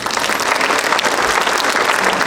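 Hearty audience applause at a parents-college interface event follows a performance. Dense, loud clapping is steady and continuous throughout, with no talk over it.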